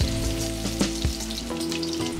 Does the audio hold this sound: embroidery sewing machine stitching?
no